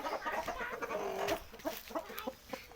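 Fighting cocks at a large Thai cockfighting pit give repeated clucks and short calls at moderate distance, over steady low background bustle with no talk.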